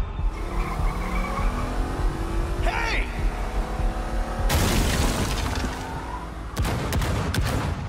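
A car in the Batman Telltale game skids and squeals its tires, then slams into a barricade with loud crashing booms and a burst of rapid gunfire-like impacts near the end.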